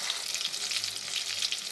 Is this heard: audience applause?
no